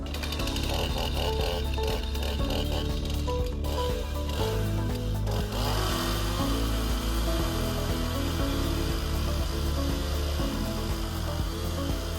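Continuous loud droning of a chainsaw cutting through a pine log in the woods during firewood logging, the engine roar steady and close with little variation throughout.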